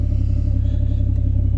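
A Ford Falcon FG engine idles steadily up close, a loud, even low rumble with a regular pulsing throb and no talk.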